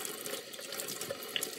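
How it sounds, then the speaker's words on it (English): Water runs from a tap over a silicone makeup brush cleaning pad being rinsed, a steady, close splashing rush with no pause. "You just rinse it under the water."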